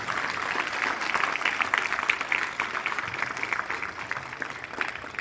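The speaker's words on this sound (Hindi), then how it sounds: "लिए जोरदार तालियां।" Meditation group applauding loudly after a session, a dense continuous patter of many hands clapping, steady and fairly close, with faint voices in the background.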